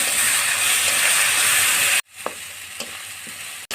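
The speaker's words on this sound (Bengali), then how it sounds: "আমি রসুন বাটা দিয়ে কিছুক্ষণ নেড়ে ফেড়ে নেবো" Garlic paste added to deep-reddened fried onions sizzles loudly in a pan, then drops to a quieter crackle broken by a few sharp stirring scrapes and taps.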